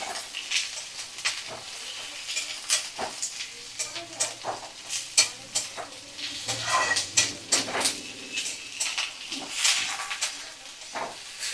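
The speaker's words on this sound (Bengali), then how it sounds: "সমস্ত সবজি ভালো করে নাড়াচাড়া করে নিচ্ছি" Winter vegetables with kohlrabi being stir-fried in a pan, a steady sizzle broken by repeated scraping stirs and clanks of the spatula against the pan, close and moderately loud, no talking.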